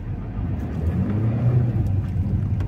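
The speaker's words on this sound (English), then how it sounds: "That's some amount of wheel spin" Loud, rumbling engine of a 2023 Hyundai Grand i10 Nios Asta at full throttle with wheels spinning, a steady low roar that swells in the middle, close by.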